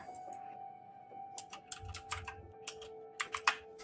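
Computer keyboard typing comes in quick irregular bursts of sharp clicks, close and clear, over a faint steady electronic hum.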